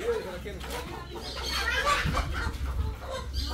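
Chickens on a poultry farm cluck and chatter in a busy, overlapping din at moderate distance, with indistinct voices mixed in.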